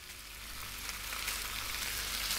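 Food fries in a pan in the video game Cooking Simulator, a steady, fairly soft sizzling hiss with a faint crackle that holds evenly throughout.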